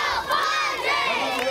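Elementary school children at a Paradise Hills Elementary rally for the San Diego Padres cheer and shout together, a loud, high-pitched crowd roar that surges in waves.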